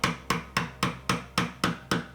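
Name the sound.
chisel struck with mallet chopping dovetail baseline in wood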